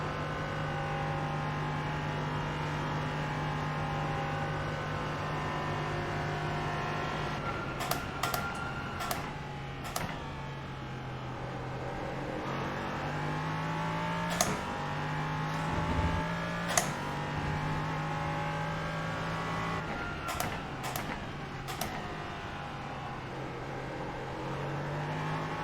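Race car engine in a racing video game holds a steady drone with shifting pitch, rising and falling through gear changes, broken by a few sharp clicks and knocks, with no talking.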